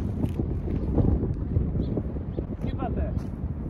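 Wind buffets the microphone on an outdoor disc golf course, a loud, rumbling low roar that runs continuously while a person talks over it.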